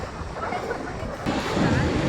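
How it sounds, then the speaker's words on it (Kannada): Steady wind gusting across an open shoreline, with a soft wash of surf underneath that swells louder partway through. "ಒಳ್ಳೆ ಗಾಳಿ ಬೀಸ್ತಾ ಇದೆ"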